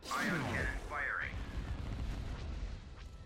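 Ion cannon firing in Star Wars: Empire at War, with a sweeping, warbling energy tone at the start followed by a deep rumbling boom that lingers and slowly decays.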